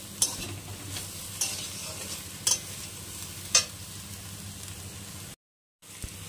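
Cumin and ginger paste being stirred into bottle gourd greens frying in a pan, with steady hissing sizzle and a few sharp scrapes of the spatula, then a brief cut to silence before one more clink.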